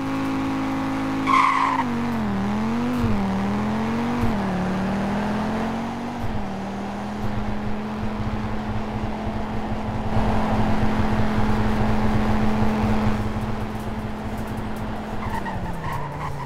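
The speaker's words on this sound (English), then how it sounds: "0 to 100 in braking test." Car in the Roblox game Greenville accelerates from 0 to 100 with a rising engine tone through gear shifts, then brakes hard with a long tire squeal and skid.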